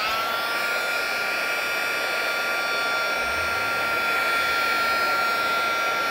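A hair dryer blows steadily and loudly throughout, drying paint on a craft planner page with a continuous whooshing hum and no pauses.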